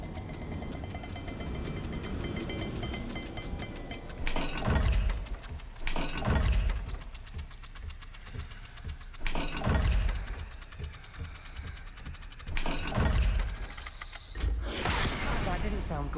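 A rotating puzzle dial turns in Hogwarts Legacy, giving loud ratcheting clicks in repeated bursts, each ending in a heavy mechanical clunk, with voices speaking between the turns.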